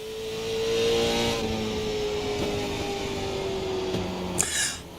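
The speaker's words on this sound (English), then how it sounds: "I hope that the sound of the racing when I'm not talking is good" A racing car engine in a racing video game holds a steady high drone with a slowly falling pitch, rising briefly near the start and ending with a short burst of noise, with no talk over it.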